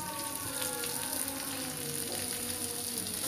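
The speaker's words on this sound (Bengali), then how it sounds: "দিয়া দিতেছি সিদ্ধ করা শাকটা।" Boiled drumstick leaves fry in a pan with garlic, onion and green chillies, giving a steady, close sizzle and crackle with faint stirring and no talk.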